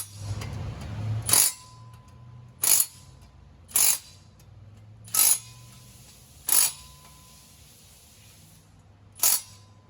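Six sharp metallic clicks from a torque wrench tightening rear main seal cover bolts in a star pattern, each click spaced about one to one and a half seconds apart, crisp and close with quiet between.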